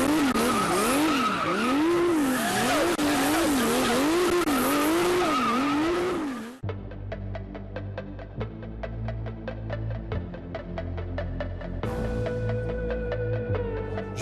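Drift cars at a Drift Outlaws event, engines wailing up and down through rapid revs with tire squeal for about six seconds, then the sound cuts to steady background music.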